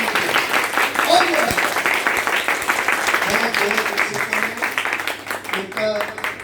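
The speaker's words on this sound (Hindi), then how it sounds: "तो एक बार जोरदार तालियां और जोरदार तालियां" Audience at a birthday party event clapping and applauding continuously, a dense steady round of applause with voices mixed in, fading slightly toward the end.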